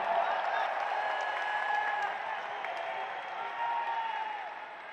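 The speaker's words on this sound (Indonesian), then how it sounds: "Beri tepuk tangan untuk Mas AHY" Crowd applause with some cheering at a political speech in Indonesia, a steady wash of clapping from a large audience, fairly distant, easing slightly toward the end.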